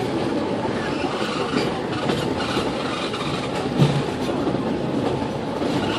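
Train ride circling the Magic Kingdom park, a continuous broadband rumble of the railcar rolling on its rails with faint rhythmic clacking, steady and close throughout with no talking.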